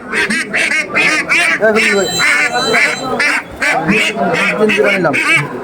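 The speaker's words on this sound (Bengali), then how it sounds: "অনেকগুলোই কিন্তু হাঁস নিয়ে আসছে এই কাশিগঞ্জ বাজারে" Ducks brought for sale at Kashiganj village market quack repeatedly in a dense, loud, near chorus, with the crowd's voices mixed in throughout.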